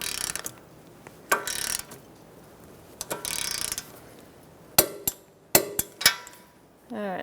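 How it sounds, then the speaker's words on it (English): A torque wrench tightens a slotted castle nut on the front suspension of a 2012–2019 Fiat 500, making short bursts of ratcheting clicks followed by several sharp, distinct metallic snaps, close up in a quiet workspace. "All right, let's torque this to 30 foot-pounds."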